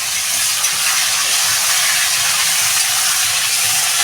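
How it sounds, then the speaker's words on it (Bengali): Chopped onion and tomatoes fry together in a hot pan for a lentil dal, giving a steady, even sizzling hiss that runs unbroken throughout. "আর এদিকে টমেটো দিয়ে দেবো সব একসঙ্গে দিয়ে আমি ভেজে নেবো ভালো করে"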